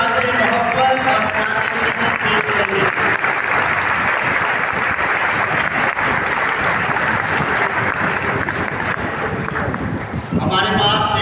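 Loud, sustained applause from a crowd at a Sunday church family celebration with a cake cutting, dense steady clapping close by that continues without pause and eases only slightly at the end.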